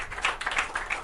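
Brief burst of light clapping from a small online audience, a few quick, dry claps over about a second, fairly faint with no voices.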